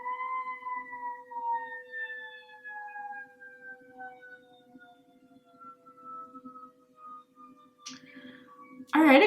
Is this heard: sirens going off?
yes